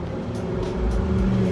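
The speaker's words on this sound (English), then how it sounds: "But a car with a loud muffler." A car with a loud muffler rumbles past, a low, steady engine drone that swells slightly as it nears, heard alone with no talking.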